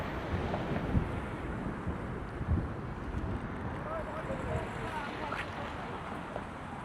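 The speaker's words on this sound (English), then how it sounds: "Okay, now it's getting windy." Wind buffets a microphone outdoors beside a lake in Minnesota, a continuous rushing roar with a few louder gusts thumping near the start.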